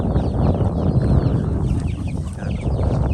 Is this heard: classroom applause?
no